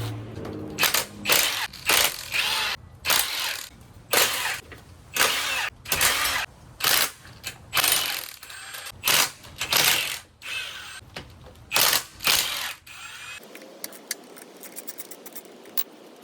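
A ratchet or power tool runs bolts off during engine removal on a 2024 Hawk 250X motorcycle, producing a close series of loud, rapid mechanical bursts about once a second, then a quieter stretch at the end.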